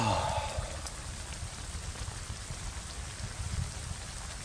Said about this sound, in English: See what happens with this rain,